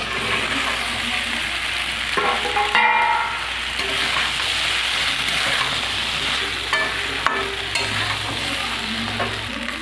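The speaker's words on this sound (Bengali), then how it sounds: "জিরে বাটাটা দিয়ে একটু কষিয়ে নিয়েছি, মাছগুলোও দিয়ে দেবো।" Fish frying in a pan with cumin paste and mango sizzles steadily while a spatula stirs through it, scraping and clinking in irregular strokes, close and fairly loud.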